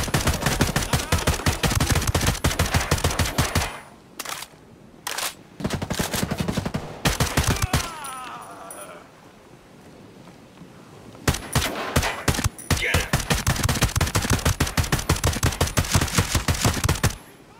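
Rapid bursts of automatic gunfire from the Modern Warfare 2 video game, loud and dense, with a few seconds of quieter pause in the middle before the firing resumes just as heavily.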